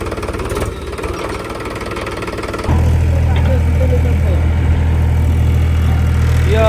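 A tractor engine runs on a farm with a steady heavy, low rumble and knocking, loud and close, and grows stronger partway through while people talk over it.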